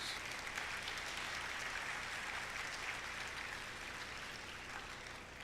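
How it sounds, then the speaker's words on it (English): Sustained audience applause fills a high school band spring concert hall after the All-State players are recognized, a dense steady clapping that holds loud and even throughout with no talk over it. "Let's give them all one more round of applause."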